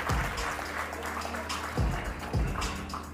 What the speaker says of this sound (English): we're going to have a big round of applause for the Groom's brothers tonight